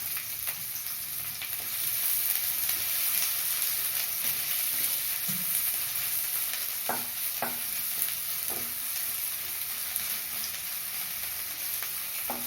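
Two long-sliced onions fry in hot oil in a pan, giving a steady close sizzle with occasional stirring scrapes and clinks, no talking.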